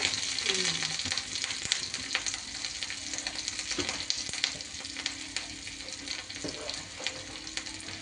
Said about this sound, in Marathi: याच्यामध्ये आपण पहिले हिरवी मिरची घालून घेऊया, छान प्रकारे भाजून घेऊया